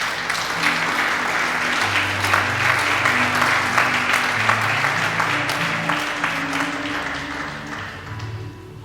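Steady applause from a church congregation fills the whole stretch, a dense continuous clatter of many hands with a low sustained tone beneath, no talking.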